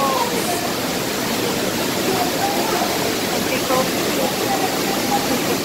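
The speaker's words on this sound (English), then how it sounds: "It's a waterfall." Zapata Falls in Colorado fills the scene with a steady, hissing roar, constant and close, with faint voices blending into the background.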